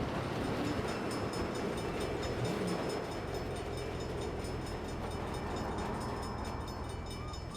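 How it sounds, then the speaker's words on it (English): A train rumbles past nearby in the video game Saints Row, a steady heavy roar with clattering texture that slowly eases off, no voices present. "Hell of a time for a train."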